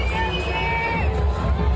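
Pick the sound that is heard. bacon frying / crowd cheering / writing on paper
crowd cheering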